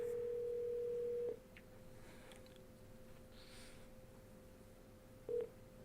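An outgoing telephone call rings back with a single steady electronic tone lasting over a second, then silence, then a short second burst of the same tone; it sounds moderately quiet, with no voices.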